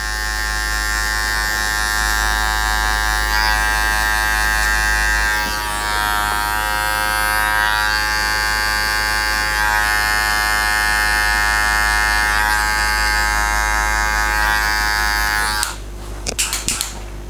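Electric hair clippers fitted with a number 1 metal guard hum loudly and steadily while blending a taper in a barbershop, ending with a few short rattling bursts.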